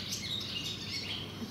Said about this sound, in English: the noise from those birds is something else, isn't it?